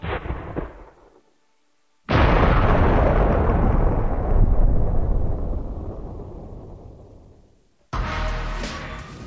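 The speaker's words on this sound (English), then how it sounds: "This is a replica 1853 Enfield rifled musket." A replica 1853 Enfield rifled musket fires one loud, booming shot that rolls and decays over several seconds outdoors, with another blast cutting in at the end.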